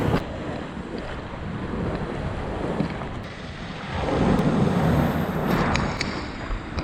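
Surf washing ashore at a beach in Ksamil, Albania, near a sea cave, as a steady broadband rush with wind buffeting the microphone, swelling louder in the second half; no voices.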